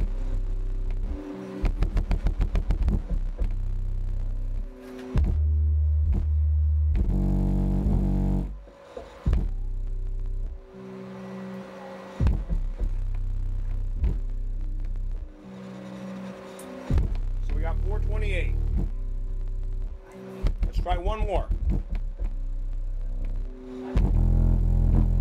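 An American Bass DX-12 car subwoofer driven by an NVX XAD13 amplifier on a dyno test pounds out loud, deep bass notes in pulsing bursts with short gaps, music-like and booming.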